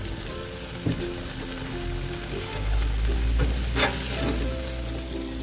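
Burger patties topped with melting cheese sizzle loudly and continuously on a hot griddle, with a few scraping and tapping spatula sounds over the dense, close frying hiss.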